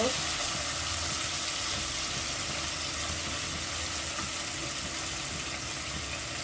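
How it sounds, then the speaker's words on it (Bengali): Two medium potatoes cut into small pieces frying in a pan until reddish, an even, continuous sizzle at moderate level throughout, no voices. "এগুলোতে আমি লাল লাল করে ফ্রাই করে নিব"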